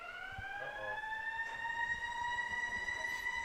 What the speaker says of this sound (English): So we have an ambulance flying by.